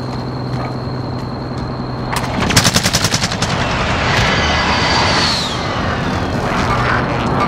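A rapid burst of automatic gunfire rattles in Call of Duty: Modern Warfare, a loud string of evenly spaced shots after a low vehicle engine hum, followed by a whooshing sweep and continuing rumble.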